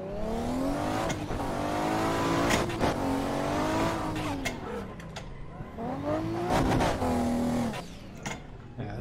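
Drift car engine in the Assetto Corsa racing game at Irwindale, revving hard and continuously, rising and falling in pitch with throttle swells and sharp gear-change dips, loud and close throughout.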